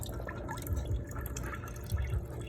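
Water drips from a leaking hot water heater indoors, faint soft drops falling at an irregular slow pace over a low steady background hum.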